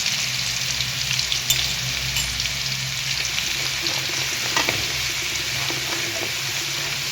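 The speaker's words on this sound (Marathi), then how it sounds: "हिंग लसूण खरपूस तळून घ्यायचा आहे" Asafoetida and garlic sizzle loudly in hot oil for a tempering, a dense continuous crackle with occasional stirring scrapes and sharper pops, close up and steady throughout.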